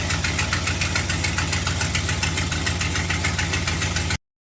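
A 5.2-litre 318 V8 idling after a cold start at 30 degrees, a loud, steady, slightly knocking rumble with even rhythmic pulses that runs unbroken until it cuts out abruptly near the end.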